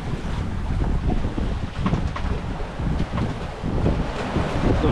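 Steady wind of about 15 knots sweeps across a sailboat at sea on an Atlantic passage toward Barbados, with constant roaring buffets on the microphone and the wash of waves against the hull; no one speaks.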